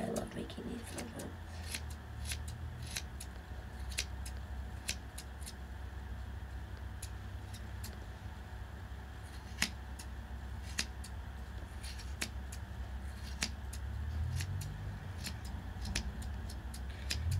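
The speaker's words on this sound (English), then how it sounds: "This one I'm cutting sort of fair because I thought that it looked best that way." Scissors snip repeatedly through a yarn pom-pom during a trim, giving sharp, irregular clicks over a low steady background hum, fairly close and moderately quiet.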